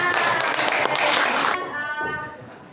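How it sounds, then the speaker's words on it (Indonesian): A classroom of students clapping together for about a second and a half, then the applause stops abruptly and a voice begins speaking. "Berikan tepuk tangan."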